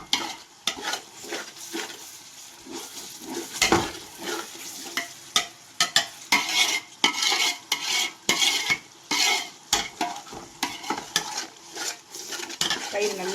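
A spoon stirs 150 grams of yogurt into a dum biryani mixture in a pan, with repeated scraping and clinking strokes against the metal, close up and uneven in rhythm, and faint sizzling underneath.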